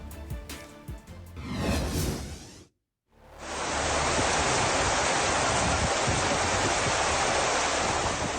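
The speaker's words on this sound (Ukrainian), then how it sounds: "Під вікнами багатоповерхівки у самому центрі столиці величезна діра і водоспад." Water pours loudly and steadily into a huge sinkhole where the asphalt collapsed beside a high-rise apartment block in a city centre, a broad continuous roar after a brief pause in the sound.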